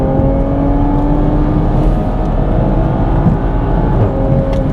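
A 2022 Toyota Supra's 3.0L inline six-cylinder engine hums loud and close from the cabin, a steady droning tone that swells slightly, with a brief hiss near the end.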